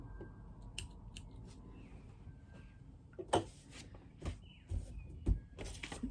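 Scissors snip loose quilting threads in a series of quiet, close, irregular clicks and short cuts against faint background rustling.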